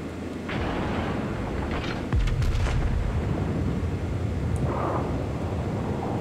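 Main gun salvo from the battleship Yamato in a naval combat game, a heavy low boom that lands abruptly and rumbles on under a steady engine and ocean drone.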